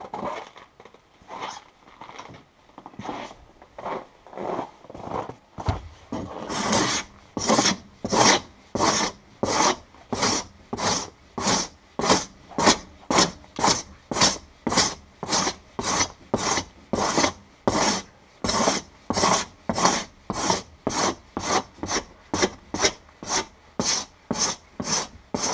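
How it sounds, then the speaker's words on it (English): A paint scraper scrapes frost off a frozen black bear hide outdoors in rapid rhythmic rasping strokes, close and loud, quickening into a steady back-and-forth after a few slower passes. "I'm going to grab a paint scraper and we got to scrape that."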